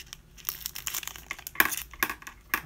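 A tough foil baseball card pack wrapper is torn and crinkled open in a series of close, sharp crackling bursts, with no voices.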